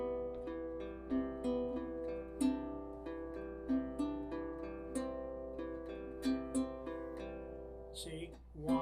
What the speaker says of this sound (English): we're going to do these two notes pinched on beat 1